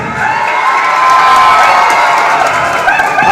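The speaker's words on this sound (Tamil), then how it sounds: "ஒத்துறவங்க கைத்தட்டுங்க" Crowd at a national paddy festival in Thiruthuraipoondi cheering and clapping loudly, a dense sustained roar of voices and shouts with applause underneath, steady throughout.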